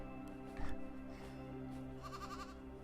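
A sheep bleats in the AER: Memories of Old video game, one short quavering call rising over soft ambient music, with a second fainter bleat trailing near the end.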